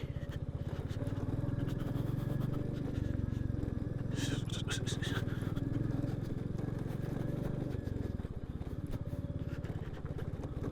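Royal Enfield motorcycle revving hard on rough off-road terrain, a loud, steady thumping engine that holds for several seconds before easing, with a person talking over it.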